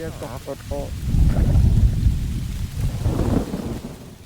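Thunder rolls in a long, deep rumble over steady rain, building and lingering, with a brief voice at the start before the storm swells and fades.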